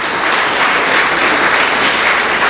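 A church congregation claps together in sustained, dense applause, loud and even throughout, with no voices standing out.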